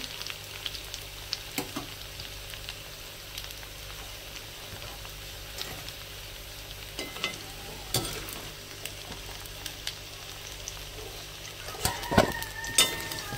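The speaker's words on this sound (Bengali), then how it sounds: "আমার ওলকপিটাকে হালকা করে ভাজা গেছে" Kohlrabi frying lightly in a pan gives a soft, low sizzle punctuated by scattered crackles and pops, which grow a little busier toward the end.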